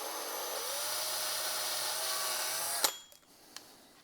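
Power drill boring a pilot hole into wood for a 2.5-inch screw, a steady close whine that runs for nearly three seconds, then stops abruptly, followed by a couple of faint knocks.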